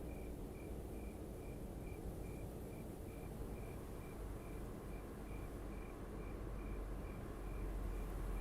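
Crickets chirp in American Truck Simulator on a Route 66 drive, a faint, even pulse of high chirps repeating steadily over a soft ambient background with no talking.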